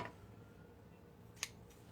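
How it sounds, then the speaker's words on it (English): A single quick snip of scissors cutting ribbon, crisp and close, in an otherwise quiet room with faint background noise. "let me just find my scissors"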